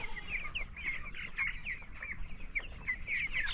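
Young broiler chickens, nineteen days old, on a poultry farm floor of loose litter give soft, scattered peeps and clucks in quick irregular bursts, faint and close-packed over a low background, with no voices.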